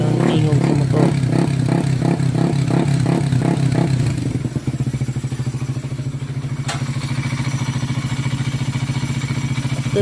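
A Suzuki Raider motorcycle engine in stock condition idles loudly and steadily, with a rapid rhythmic putter and some mechanical clatter, close by throughout.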